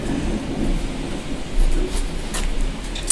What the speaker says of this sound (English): I hear sirens and I hear thunder and I hear everything right now.